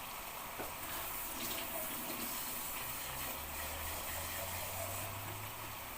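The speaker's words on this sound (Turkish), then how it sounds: "Biraz su getirelim arkadaşlar üstüne dökelim." Water poured from a container over bone-in, still-frozen meat in a pot on a wood-burning cookstove at a campsite, a steady close gushing splash running unbroken throughout, with no voices.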